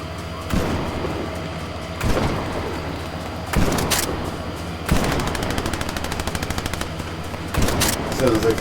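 Hip-fired gunfire in a shooter game: loud single shots spaced a second or so apart, then a fast rattling automatic burst, all close and prominent.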